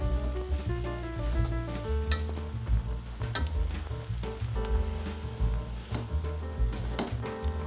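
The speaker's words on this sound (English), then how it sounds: "Give it a good stir" Bolognese sauce being stirred in a pan, soft scraping and gentle sizzle beneath loud background music.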